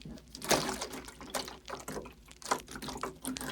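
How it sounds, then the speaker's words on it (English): Water is gathered by hand in a soft, close ASMR setting, with gentle splashes and trickles, some small taps, and no one speaking. "First, I am going to collect some of this water,"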